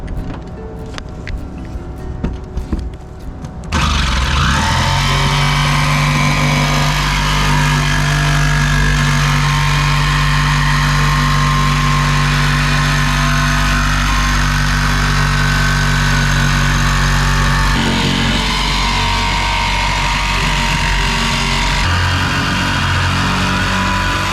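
A jigsaw cutting through the sheet-metal roof of a Promaster van for a solar panel install, buzzing loud and steady and close up, running almost without a break after a quiet start.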